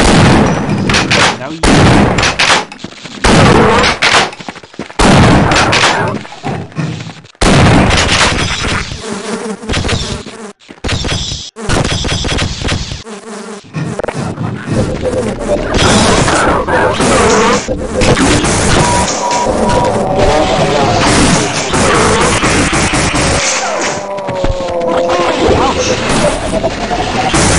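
A powerful weapon fires repeatedly in Half-Life on Hard difficulty during a fight with HECU grunts, loud shots in quick irregular bursts with a buzzing drone beneath, and a brief voice speaks.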